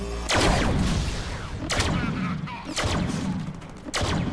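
Heavy gunshots in the Deadpool video game, several loud booming blasts spaced a second or so apart, each with a rumbling tail, close and dominant over a busy game background.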